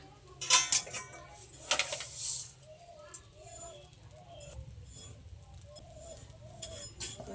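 Raw rice added a little at a time to hot salt in a pan and stirred to puff it, giving bright clinks and metallic scrapes up close, then a softer rustle, with pigeons cooing throughout in the background.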